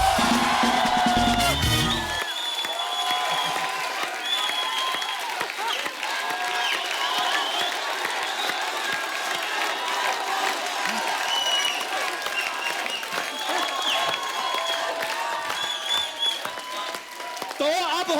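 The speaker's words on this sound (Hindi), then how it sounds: "एक बार जोरदार तालियां हो जाए।" A studio audience at the Kapil Sharma comedy show bursts into loud, sustained applause with cheering and whoops, filling the room steadily after a brief opening moment of louder noise.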